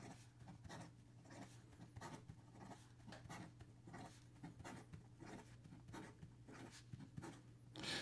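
An OMAS Vintage 360 fountain pen writes quickly on paper, its nib giving a continuous soft scratching of rapid strokes, close and faint over a low steady hum.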